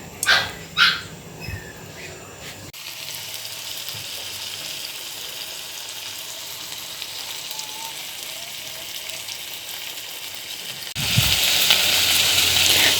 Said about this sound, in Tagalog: nagpainit na ako ng mantika at priprituin ko muna ang longganisa